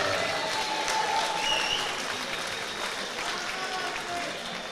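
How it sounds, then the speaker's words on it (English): Audience applause fills the hall at a St Francis Boxing Club amateur boxing show, Scotland versus England: steady, dense clapping from a large crowd that carries on throughout at even loudness. "please keep the applause going"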